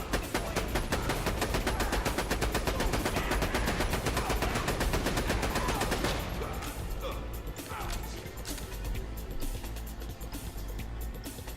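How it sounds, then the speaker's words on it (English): The Machine, a Vladof sniper rifle in Borderlands: The Pre-Sequel, fires a long stream of rapid, loud, evenly spaced shots, then thins to sparser cracks and mechanical clatter. "The Machine is a unique rarity Vlad-off sniper rifle, quite literally made out of money"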